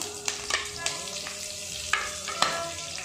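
Mustard seeds, cumin seeds, asafoetida and curry leaves sizzle in hot oil for a tempering, a soft steady crackle broken by several sharp pops and spits, close and fairly quiet, with no talk.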